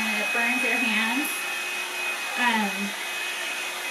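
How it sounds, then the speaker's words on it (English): A Revlon One-Step round brush hair dryer runs with a steady, close whirring hiss and a constant high whine, its pitch shifting slightly as it moves. "I don't generally use this round brushing hair dryer on the highest setting"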